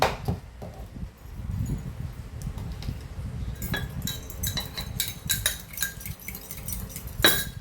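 Utensil scraping and clinking against a bowl while mixing bitter gourd salad with vinegar and a little salt, a busy run of light metallic taps and clinks over a low background hum.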